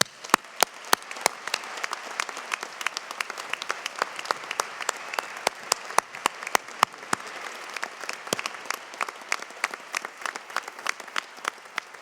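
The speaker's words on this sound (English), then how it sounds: "Please, a round of applause for all of them" A large commencement audience at a dentistry school graduation applauds steadily for faculty on stage, a dense, even wash of many hands clapping at moderate distance for the full stretch, with no talking.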